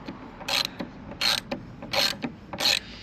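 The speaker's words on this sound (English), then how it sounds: "we're going to remove these 4 bolts." A hand ratchet works bolts loose on an Alfa Romeo 4C, its close metallic clicking coming in four regular bursts about every two-thirds of a second, with faint rubbing between strokes.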